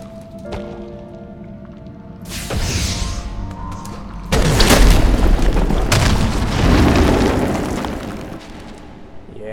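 Explosion in the Ori and the Blind Forest game, a loud booming blast that rumbles and swells over several seconds among game sounds and music.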